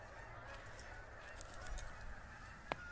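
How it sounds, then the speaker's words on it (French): Geese honking in the distance, faint calls scattered over steady outdoor background noise, with a sharp click near the end. "vous les entendez là, les oies là?"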